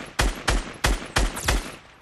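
Five loud, sharp sniper shots fire in a steady rhythm, each a hard crack with a short tail, during a video game shootout with no voices over them.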